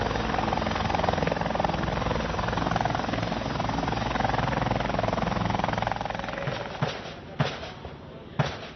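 Steady broadband rotor roar of a military helicopter arriving with troops in Tarakan, North Kalimantan, loud and close, with a few sharp bangs near the end.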